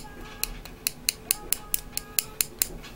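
A dry acrylic nail tapped over and over, giving a string of about eleven sharp, hollow clicks at a fairly steady, quick rhythm. They sound close and stand alone against a quiet background.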